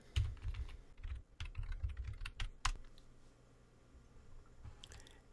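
Computer keyboard typing a terminal command on a Linux Mint computer, a quick irregular run of close, soft key clicks that thins to a few last taps, with no talk.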